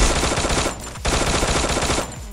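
Loud, rapid automatic gunfire from a PUBG-style shooter video game, two long bursts of dense shots broken by a brief pause around the middle.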